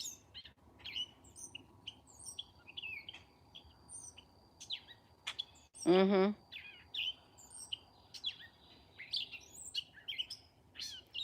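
Small birds chirp and tweet throughout in quick, scattered calls, with a brief low vocal murmur and a rustling burst partway through.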